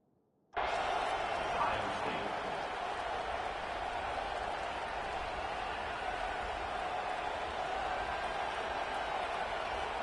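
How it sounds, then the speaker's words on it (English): A stadium crowd at an Ohio State football game roars steadily as the defense tries to pin the opponent deep, a dense, sustained wash of cheering that rises abruptly and holds at an even level throughout. "The roar of the crowd trying to fuel this defense to keep them pinned in their own end."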